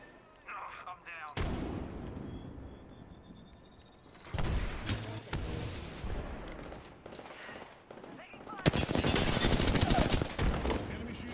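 Bursts of rapid gunfire and shooting in a fast-paced video game firefight, coming in loud waves with heavy clusters of shots near the middle and end, over a steady background of game sound and a player's occasional talk.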